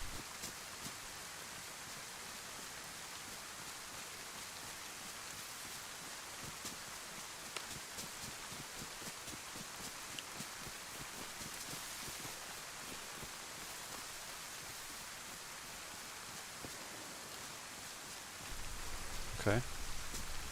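Steady rain from a storm in the DayZ survival game hisses as a dense, even wash of noise for the whole stretch, faint and unbroken, with a slightly louder burst near the end.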